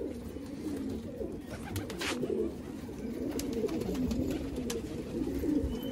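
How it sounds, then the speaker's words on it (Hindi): Pigeon cooing in a continuous low, throaty murmur from several birds close by, steady throughout with faint bird chirps above. "किसके कबूतर हैं ये?"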